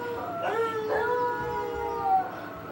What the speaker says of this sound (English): I thought I heard the dog bark